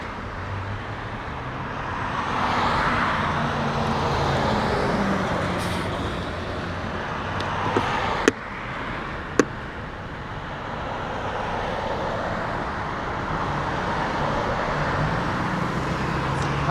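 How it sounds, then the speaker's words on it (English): Steady roadside traffic on a sunny road, cars and trucks rumbling past in a continuous wash, with a couple of sharp clanks partway through and no talking. "So many cars"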